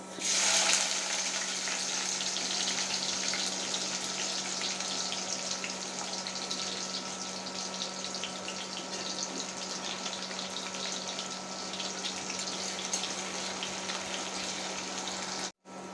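Onions frying in three tablespoons of oil in an iron wok on a stove, a steady close sizzle holding level throughout with no voices.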